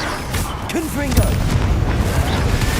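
A Confringo fire curse in Hogwarts Legacy lands as a loud booming blast over rumbling combat noise, with a voice speaking over it.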